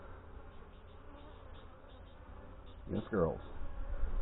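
Honey bees buzz around an opened hive that is still trying to swarm, a continuous low hum close by, with a person speaking briefly to the bees midway.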